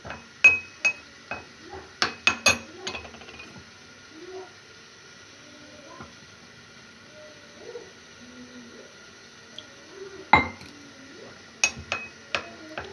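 A spoon stirs vegetable noodle soup in a metal pot, making sharp, close clinks in clusters with quiet gaps between, plus soft liquid swirls.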